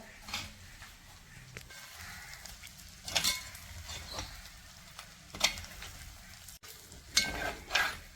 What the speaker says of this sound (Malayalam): ഇനി നമുക്ക് ഇളക്കി കൊടുക്കാവേ